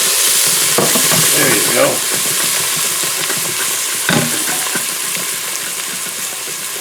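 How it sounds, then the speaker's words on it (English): Red wine hits sizzling onions in an Instant Pot with a loud, continuous crackling hiss, a couple of sharper bursts as the liquid splashes in, and a brief spoken phrase on top. "Oh, look at those onions. Now I'll put a little bit of red wine in there to help."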